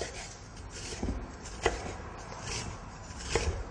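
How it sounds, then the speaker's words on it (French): A knife chopping an onion on a board for guacamole, a few separate sharp cuts spaced irregularly over soft background noise. "Vous pouvez hacher l'oignon plus ou moins finement selon votre goût"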